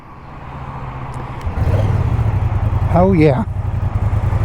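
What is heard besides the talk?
Moto Guzzi V100 Mandello motorcycle engine as rider sets off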